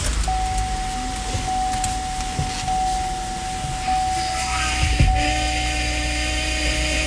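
A power steering pump on a 2007–2017 Buick Enclave, GMC Acadia or Chevrolet Traverse moans and drones steadily with the steering held at full lock, a constant whine over engine rumble, with a brief thump near the end.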